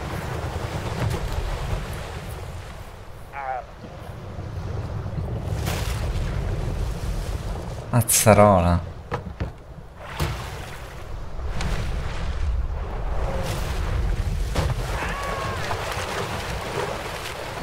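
Boat out at sea in the video game Dave the Diver, a steady droning wash of motor and waves that runs continuously, with a brief louder splash partway through and occasional speech faintly over it.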